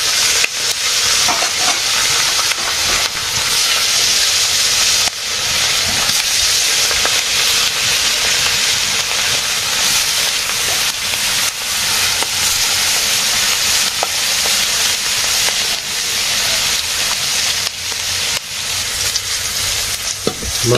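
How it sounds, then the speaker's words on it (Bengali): Fish frying in a pan in a Bangladeshi farm household kitchen, a loud, steady sizzle and hiss of hot oil running unbroken throughout with occasional stirring clatter and no talk. "মাছ ভাজি হয়ে গেছে"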